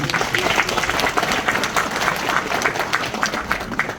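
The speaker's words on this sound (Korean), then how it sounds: "크게 벌창할수 있도록 한 응원의 박수를 부탁드리겠습니다." Steady applause from an audience at an annual general meeting of a farmers' agricultural cooperative in Korea, dense hand clapping filling the room for several seconds without voices over it.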